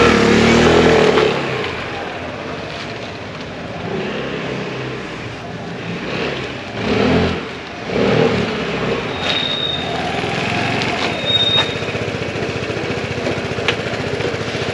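A Vespa GTS 300 scooter engine runs on a test ride after a replaced oxygen sensor, giving a continuous near drone that swells and eases with the throttle.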